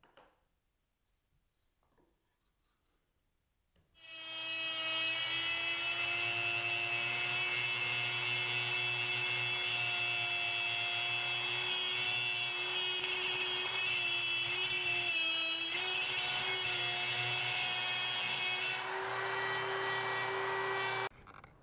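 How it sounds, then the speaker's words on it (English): A power router whines loudly and steadily as it cuts plywood, its pitch wavering slightly before the tone shifts near the end as the bit breaks off, then cuts off. "that's the sound of it no longer cutting because the bit broke off"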